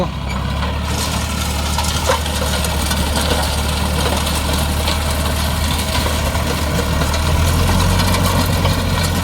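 Old Ford 3600 tractor engine idling, a steady low throbbing rumble that stays loud and close throughout, with no talk over it.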